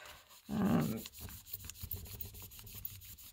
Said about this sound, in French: Avec mon éponge magique. Mais du coup, il faut que je frotte beaucoup.